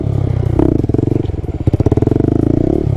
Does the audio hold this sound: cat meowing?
no